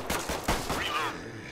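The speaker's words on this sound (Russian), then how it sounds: "Кстати, должен сказать, что стрельба здесь сделана очень-очень хорошо." Gunfire in the post-apocalyptic video game The Last Haven: a quick burst of several sharp shots in rapid succession, loud and close, then a ringing tail fading out.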